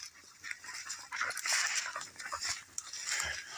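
A coon hunting dog treed in hot Texas weather gives repeated whimpers and yips close by, a restless, continuous stream of whining without any talk.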